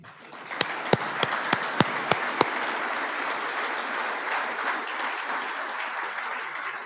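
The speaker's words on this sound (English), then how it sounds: "Big round of applause right there." Crowd applause at a Marine Corps ammunition technician awards dinner, steady clapping from a large room punctuated early by several sharp, loud individual claps nearby, then continuing evenly.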